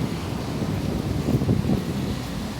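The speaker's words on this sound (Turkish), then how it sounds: "Bugün havada biraz rüzgar da var." Steady wind on Avenida Paulista in São Paulo rushes and buffets against the microphone, a continuous low roar with slight gusts midway.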